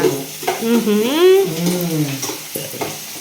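Onions frying in a pan for a home-style fish curry give a faint sizzling hiss beneath a prominent, close talking voice that dominates throughout.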